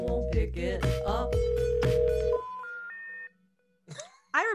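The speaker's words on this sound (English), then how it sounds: "If you dial on the phone, I won't pick it up." Touch-tone telephone dialing: a quick run of DTMF beeps stepping through several pitches, heard clearly after a dense burst of mixed sound and followed by a short pause and a brief rising tone at the end.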